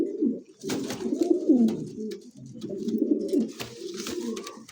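A male pigeon coos in repeated low, throaty phrases while chasing a female around the loft, with short breaks between bursts and faint rustling; close and steady, with no talk.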